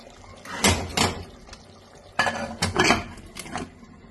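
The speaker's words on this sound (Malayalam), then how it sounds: "നമുക്കിത് മൂടി കൊടുക്കാം." A lid clatters onto a pot of mutton kurma with a few sharp metallic clanks and scrapes, close up, in two bursts separated by a brief lull.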